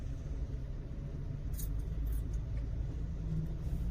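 Low, steady engine rumble from a car stuck in a long traffic jam at Tandang Sora, faint and continuous with no distinct passing vehicles.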